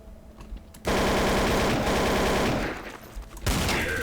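Rapid automatic gunfire in Counter-Strike: Source, on a map set in Italy, bursts in loud and close for about two and a half seconds, then stops and returns briefly after a short gap of quieter game sound.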